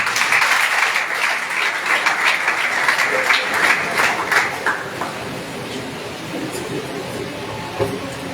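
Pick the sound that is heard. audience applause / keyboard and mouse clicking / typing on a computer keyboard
audience applause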